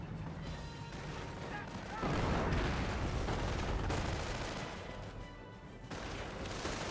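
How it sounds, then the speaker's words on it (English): Grenade blasts rumble through a Company of Heroes battle between Panzer Elite and US forces, a dense, booming wash of explosions and gunfire that swells around the two-second mark, with a commentator's voice faintly underneath. "Grenades been thrown there"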